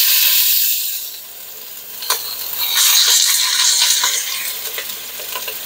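Seasoned chicken thighs and drumsticks brown skin side down in a hot pan, giving a steady, bright sizzle with crackling pops that swells partway through and carries on with nobody talking.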